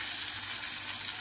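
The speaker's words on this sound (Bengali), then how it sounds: "হালকা আঁচে ফ্রাই করলে মাছটাও সুন্দর ফ্রাই হয়" Fish pieces fry in oil over low heat, giving a steady, even sizzle with a soft hiss that holds without a break throughout.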